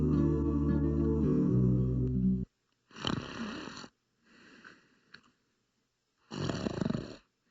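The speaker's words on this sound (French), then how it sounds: "Le ronflement est un bruit émis par un sujet en plein sommeil" A sleeping person snoring loudly at close range, with a long rasping, throaty snore followed by several shorter rattling breaths separated by silent gaps, no talking.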